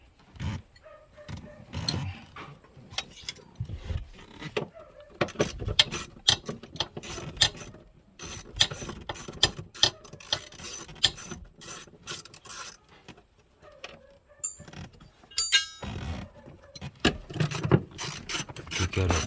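A ratchet clicks in quick bursts as bolts are undone on a Volkswagen Touareg V6 during fuel pump work, with sharp rapid ticking interrupted by short pauses and metallic handling noises, close up.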